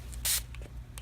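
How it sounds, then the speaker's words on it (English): A handheld spray bottle gives one short, sharp hiss of water mist onto a microgreens growing pad, close and distinct against quiet background noise. "take my handy dandy spray bottle"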